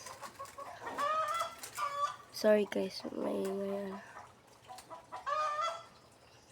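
A chicken clucks and squawks loudly nearby in a few bursts, with a person speaking briefly in between.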